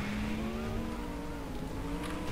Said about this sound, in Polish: Zobaczymy, jak tą furą się jedzie.